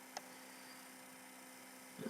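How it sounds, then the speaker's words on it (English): A household washing machine gives a steady, faint, low mains-like hum that holds unchanged throughout, with a brief rustle at the very end. "That's a washing machine."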